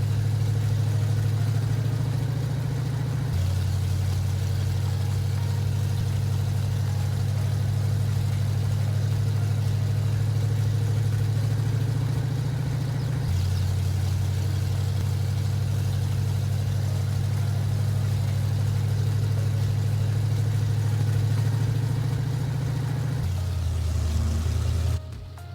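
A loud, low old Ford F-150 engine in Farming Simulator 22 idles and drones continuously, shifting pitch twice as it revs a little, a rough rumbling vehicle heard close up.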